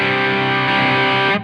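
Electric guitar through a Line 6 Helix Soldano SLO-100 model on the overdrive channel, a loud, dense sustained chord ringing steadily before being cut off abruptly, played alone.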